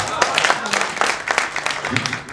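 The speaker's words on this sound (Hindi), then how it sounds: "तालियां थोड़ी सी और बढ़नी चाहिए, हाँ थोड़ी घनीभूत होनी चाहिए" Audience clapping at a Hindi comic poetry gathering, a moderate steady patter of many hands at a modest distance, mixed with some background voices.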